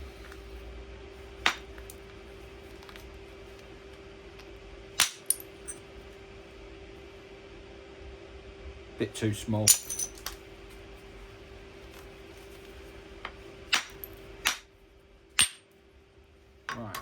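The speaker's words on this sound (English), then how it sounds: "So let's go back to the hammer." Stone being spalled into flakes with a hammer, heard as scattered sharp clinking strikes spread through the clip, some single and some in quick pairs, over a steady background hum, with brief talk.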